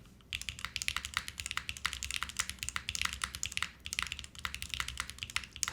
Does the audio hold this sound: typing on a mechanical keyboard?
yes